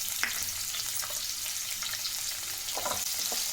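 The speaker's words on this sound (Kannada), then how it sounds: "ಅರ್ಧ ಈರುಳ್ಳಿ ಒಗ್ಗರಣೆಗೆ ಹಾಕ್ತಾಯಿದ್ದೀನಿ" Chopped onion goes into hot oil with mustard seeds for tempering and sizzles steadily up close, with occasional light clinks and stirring scrapes and no voices.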